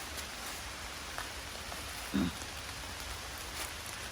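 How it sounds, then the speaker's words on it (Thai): Steady rain falls outdoors during wild asparagus picking, a dense, even hiss of drops on surfaces throughout with one brief rustle near the middle. "โอ้ยฝนตกไปเนี่ยพี่น้องค่ะ"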